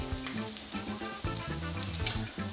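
Bacon frying in a pan until crispy, a continuous sizzle with popping spatters layered over tonal background music, steady and close.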